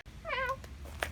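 House cat named Callie giving a single short, clear meow close by, followed by a couple of faint soft sounds in a quiet room.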